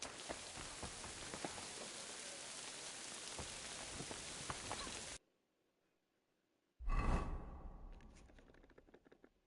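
Steady, dense rain pours down across a video game scene for about five seconds, cuts to silence, then returns as a louder burst that slowly fades.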